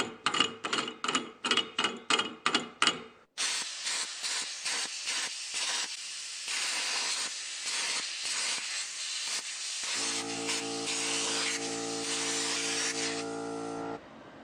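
Plasma cutter slicing metal plate guided by a gear-driven pantograph: a few quick rhythmic bursts, then a loud, continuous close hiss with a steady droning tone near the end before it cuts off.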